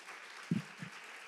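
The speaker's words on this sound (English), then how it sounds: "So ladies, can you just give a round of applause to Chandra for just being vulnerable" Faint, brief applause from a women's Bible study audience, a soft wash of clapping with a couple of slightly louder claps, heard at a distance in a quiet room.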